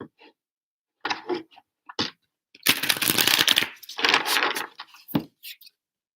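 Tarot cards being riffled and shuffled by hand, with short papery bursts at first, then a longer stretch of rapid flapping shuffles and a few soft slides as cards are drawn, close and clear in a quiet room.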